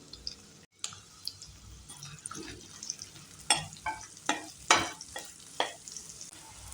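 Finely chopped onions frying in oil in a pan that already holds spluttering mustard and cumin seeds, for a soya and green gram curry. A steady close sizzle is broken by sharp stirring scrapes and clicks, with no voices.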